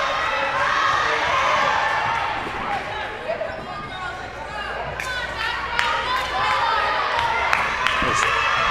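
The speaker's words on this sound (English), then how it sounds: "This crowd volume has increased dramatically here in set number 4." Crowd at a school varsity volleyball match between Westlake and Rye Neck cheers and shouts loudly and steadily throughout, with sharp ball hits and squeaks cutting through the roar.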